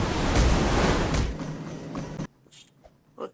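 Tsunami water rushes in during the Escape the Tsunami video game: a loud, broad roar of surging water for about two seconds, then an abrupt cut to near silence with a few faint blips.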